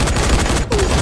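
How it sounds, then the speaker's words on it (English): Gunfire bursts in the video game Dying Light, loud and dense throughout a brief moment with a short dip near the end. "Oh, I'm getting shot at!"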